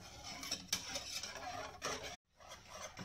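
Close, steady stirring of a thickening lemon filling for a lemon meringue tart in a saucepan, with scraping strokes and light clinks of a utensil, a brief silent gap near the end.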